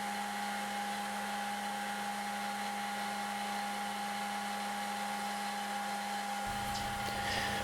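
A belt grinder with 40 grit abrasive grinding the bevels of a steel throwing knife, a steady loud whine with a constant tonal hum running unbroken throughout, changing slightly near the end.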